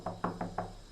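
Four quick knocks rap on a house door in an even rhythm, close and moderately loud, with nothing else sounding.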